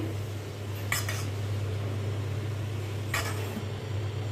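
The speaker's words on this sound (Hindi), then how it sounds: "कॉर्न गाजर डालकर अच्छी तरह मिक्स करेंगे" A spoon clinks against a steel bowl twice while corn and carrot are mixed into a moong dal batter, with two short metallic taps standing out over a steady low kitchen hum.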